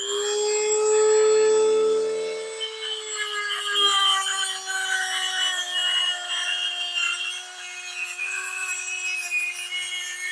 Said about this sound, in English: It's hardened steel, so I have this Dremel with this cutoff blade.